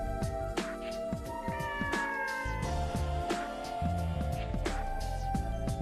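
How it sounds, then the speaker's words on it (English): A cat meows repeatedly in the MIND=0 video game, several plaintive calls rising over tonal background music and game sounds. "Is that a cat?"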